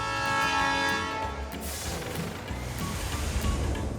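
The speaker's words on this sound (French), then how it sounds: "Cette locomotive s'appelle Abir et elle a un klaxon très bruyant." Loud horn of Abir, a winged cartoon locomotive from Thomas & Friends, blaring with strong tonal layers for about a second and a half, then giving way to rattling mechanical clatter and rolling rail noise.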